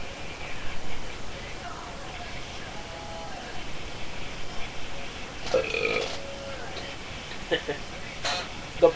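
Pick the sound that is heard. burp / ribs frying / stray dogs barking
burp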